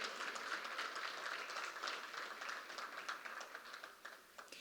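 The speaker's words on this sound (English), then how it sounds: "Big round of applause for Commissioner Alex Meade" Audience applause for a commissioner at a Laredo infrastructure panel, a steady wash of clapping from a crowd held at an even level throughout, somewhat distant and moderately quiet.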